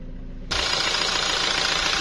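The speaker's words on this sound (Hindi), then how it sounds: "स्टॉप करूँगा, उसके बाद बाहर इंजन की नॉइज सुनूंगा, नॉइज आ रही है या नहीं आ रही।" A rebuilt Toyota Revo/Fortuner diesel engine starts up abruptly after a moment of quiet and then runs at a steady, loud, close-up idle with an even mechanical hum and rattle.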